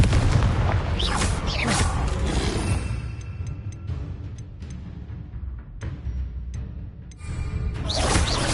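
Booming blasts and whooshes from Confringo blasting spells in a Harry Potter video game, a dense, loud stretch of explosions that thins out midway before surging back at the end.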